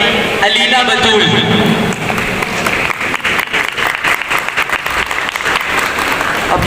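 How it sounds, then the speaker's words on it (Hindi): An audience at a speech competition result announcement applauds the winner with sustained, dense clapping that stays loud throughout and fills the room. "आपकी भरपूर तालियां।"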